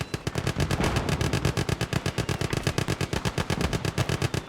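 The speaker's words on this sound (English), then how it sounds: "That's a ton of firepower from those Stuarts. All those 30 cal Brownings, that's pretty crazy." Rapid sustained machine gun fire from the .30 cal Browning guns of M3 Stuart tanks in the Gates of Hell WWII game, a loud, steady stream of close, evenly spaced bursts with no pauses.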